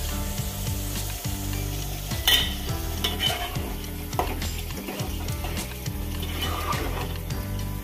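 Sautéed okra in a pan, with the water about to go in for a fish curry, gives loud continuous frying and a spatula scraping and stirring throughout, no talk.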